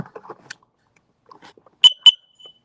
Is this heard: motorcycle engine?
no